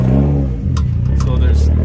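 A 1962 DKW Junior De Luxe runs at the 2023 Carlisle Import & Performance car show, its engine giving a steady, close, buzzing idle with a slight lift in pitch. People talk loudly over it.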